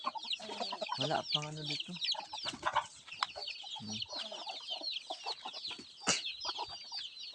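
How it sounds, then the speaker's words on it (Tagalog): Palawan native chickens and many chicks outdoors, a dense mix of high chick peeping with hens clucking close by, busy and continuous, with a person speaking briefly among them. "Ang dami na ng sisiw, oh."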